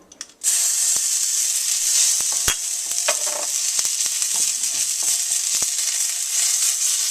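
Ginger and garlic dropped into smoking-hot oil for chicken lo mein: a sudden loud sizzle bursts in after a brief quiet start and holds steady, broken by sharp clicks and taps of a utensil, close up, no talking.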